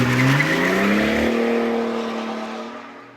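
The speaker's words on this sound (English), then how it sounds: "I'll do a launch for you. I'll show you how launch control works." A BMW E90 335d diesel launching hard from a standstill on a hot day: a loud engine roar rising in pitch through the revs with some tire noise, then easing and fading as the car pulls away.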